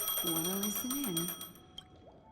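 Phone ringing in Honkai Star Rail, a steady electronic ring tone under a speaking voice for over a second before tapering off into near silence with a brief click.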